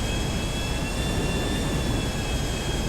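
An airplane in flight in GTA V, its jet engine a steady, loud, unbroken roar with a high whining tone held throughout, no voices over it.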